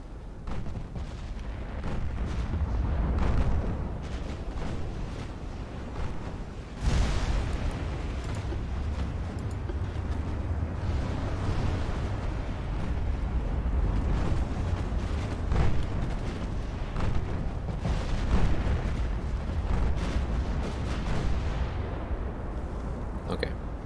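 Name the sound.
20-inch naval guns firing in Ultimate Admiral Dreadnoughts video game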